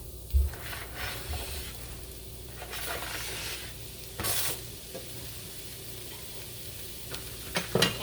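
Onions and mushrooms fry in a hot pan, giving a steady soft sizzle with intermittent scraping stir strokes and a few clinks of the utensil against the pan, fairly quiet and close.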